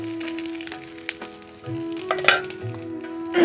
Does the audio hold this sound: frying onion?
yes